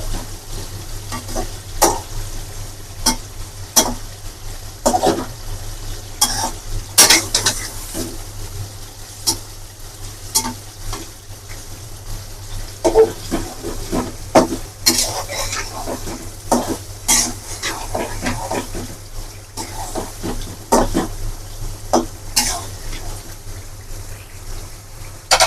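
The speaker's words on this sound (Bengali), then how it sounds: "মাছকে আলতোভাবে উল্টে দিচ্ছি।" Mud fish from the Sundarbans fries in a pan after being gently flipped, giving a soft steady sizzle punctuated by frequent sharp clinks and scrapes of a utensil against the pan.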